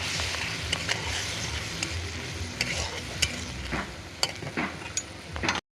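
Spice paste with cut tomatoes being stir-fried in a pan for a fish curry, a dense steady sizzle punctuated by repeated spatula scrapes and clinks against the pan, close and alone.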